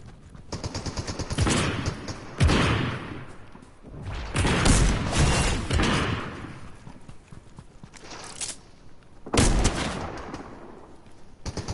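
Dragon's breath shotgun blasts in Fortnite, several loud broadband bursts spread across the stretch with crackling fiery tails and scattered smaller shots between, close and dominant with no voices.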